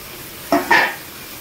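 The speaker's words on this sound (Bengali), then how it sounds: "এবার আমি এঁচোড়টা দিয়ে দিচ্ছি" Green jackfruit pieces tipped into a pan of hot cooked-down spice masala, two quick bursts of sizzle close by, the second louder and longer, fading back to a quiet hiss.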